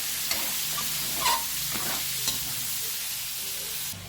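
Tomatoes frying with onion and garlic for pork afritada, a steady close sizzle with a few crisp pops and stirring scrapes, moderately loud and uninterrupted by speech.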